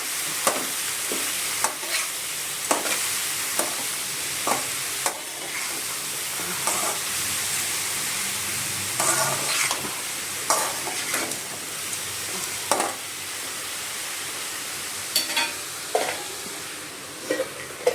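Vegetables stewing in a covered pan on a medium flame, a continuous soft sizzling hiss punctuated by regular light clicks and taps, with no one talking.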